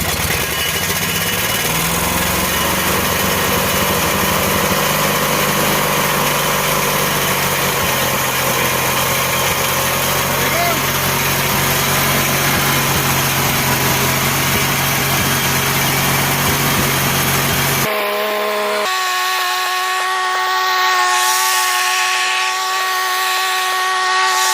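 A Lawn Boy lawn mower engine runs steadily after its choke is pushed back in, a loud continuous idle with a buzzy mechanical tone; near the end it shifts to a higher, cleaner whine.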